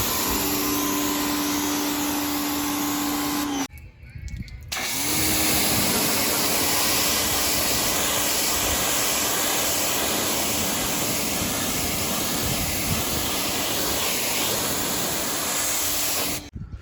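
A pressure washer blasts a steady, loud roaring hiss while cleaning a boat, cutting out briefly for about a second before resuming and running continuously, alone without talk.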